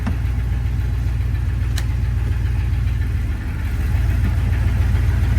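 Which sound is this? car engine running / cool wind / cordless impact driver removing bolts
car engine running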